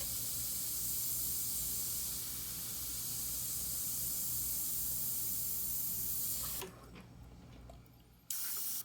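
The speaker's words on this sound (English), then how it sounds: "Now I'll pull the airbrush further away right here. I'll just dust in that area more." An airbrush sprays paint in a steady, close hiss that runs continuously, then cuts out abruptly near the end before a brief final burst of spray.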